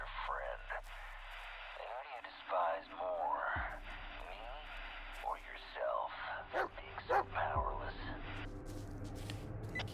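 A dog in the Blair Witch video game barks and yips in short bursts, mixed with whimpers and heard amid a man's speech and eerie game ambience.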